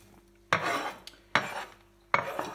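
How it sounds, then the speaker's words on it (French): Knife slicing onions into thin strips on a cutting board while potatoes cook for a tortilla, three sharp crisp chops spaced evenly, close and clear. "on peut couper les oignons en lamelles assez fines"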